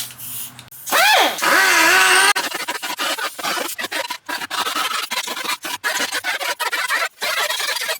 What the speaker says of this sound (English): It also gives me a chance to use the long carbide bit that I bought when I was planning to port the heads originally.